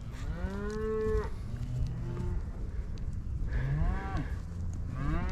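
Several cattle on a ranch moo in long, drawn-out calls that overlap one another against steady outdoor background noise, some near and loud, others farther off.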